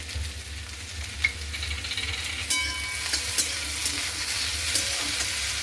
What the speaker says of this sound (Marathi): आता आपण याच्यामध्ये तयार केलेलं वाटण घालू।